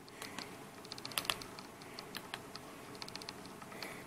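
Rapid, light key clicks from a Neoteck portable mini wireless Bluetooth 3.0 keyboard, heard up close as irregular bursts of tapping without any voice.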